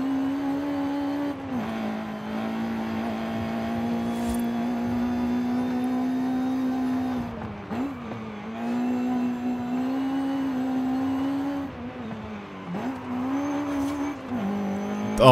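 A B16-swapped Honda CRX in Forza Horizon 5 screams along the volcano road, its high-revving engine holding a steady wail that dips at each gear change and climbs again, with no talk over it.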